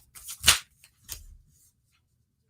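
Tarot cards being shuffled by hand, two short papery riffling bursts close up, the first louder, then quiet.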